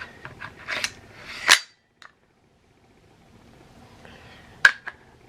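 A bolt carrier group goes back into a Ruger SR556 piston rifle with a few sharp metallic clicks and clacks, close up, separated by quiet pauses.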